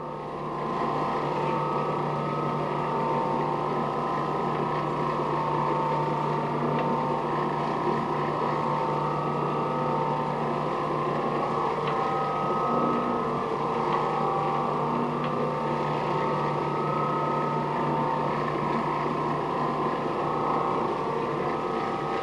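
An Oreck Orbiter orbital floor buffer spray-buffing a waxed floor runs continuously, a steady droning hum with a mechanical whine that holds level throughout, close and loud, with no speech.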